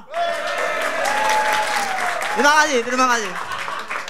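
Audience at an Indonesian stand-up comedy show applauds steadily for a few seconds in a dense, continuous wash of clapping, while someone speaks over it near the end.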